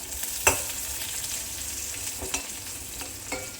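Onions and curry leaves frying in oil for an amaranth and egg stir-fry give a soft, steady sizzle with a few faint clinks and scrapes, fairly quiet and with no talking.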